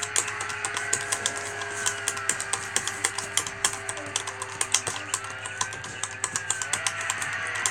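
Steady computer keyboard typing on a Redragon keyboard, a rapid run of crisp key clicks over a constant low electronic hum, close to the microphone.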